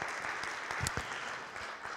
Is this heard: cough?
no